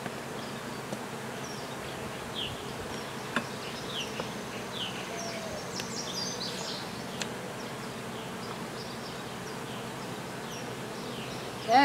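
Honey bees buzz in a full backyard hive, a steady close droning hum that carries on for the whole stretch with no voices.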